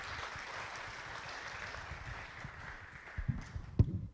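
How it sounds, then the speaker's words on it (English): An audience at a city council meeting applauds, steady clapping from a seated crowd in a hall, moderately loud, with a few sharper knocks and shuffles near the end and no speech. "Let's have a round of applause, please."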